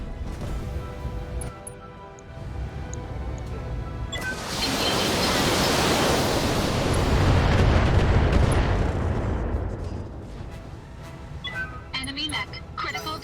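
Missiles fire from a mech in the BattleTech video game as a long, loud roaring rush of blasts and crashes that builds and then fades. Game sounds and voices sit around it.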